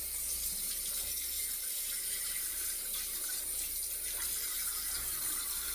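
Tap water runs in a steady, unbroken stream while a Kamasori shavette razor is rinsed at a sink, close and even throughout with no voices.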